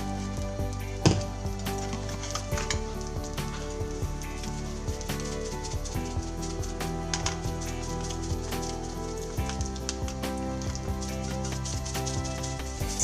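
Tofu sizzling in hot oil on a stovetop, a dense continuous crackle and spatter with scattered sharper pops, steady and close throughout.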